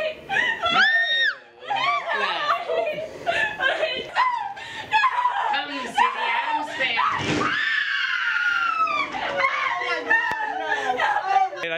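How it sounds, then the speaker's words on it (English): Several people scream and shriek loudly in a chaotic Halloween-night scene, with excited chatter and nervous laughter mixing in throughout. "what are you screaming at?"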